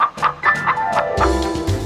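A hen clucks in a short, quick series of close, loud calls in a children's story scene, with no talk over it.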